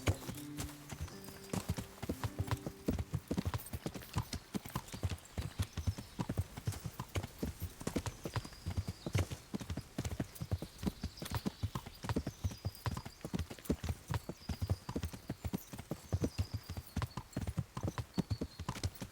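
Horse hooves clip-clopping in the video game Kingdom Come: Deliverance, a dense, continuous run of sharp rhythmic hoof strikes at a steady gait, close and clear, with no talk over it.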